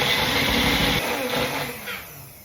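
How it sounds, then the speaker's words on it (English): A Magic Bullet blender purees onion for tartar sauce with a loud whirring motor whine that drops in pitch and fades as it winds down. "in this machine right here. It's a magic bullet. We're going to puree it down."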